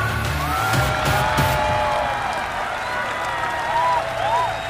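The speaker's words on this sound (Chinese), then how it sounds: "再一次用热烈的掌声欢迎他们。" An audience claps and cheers to welcome two competing teams at a professional esports league match, a broad wash of applause under a host's voice, with a few sharp clap bursts early on.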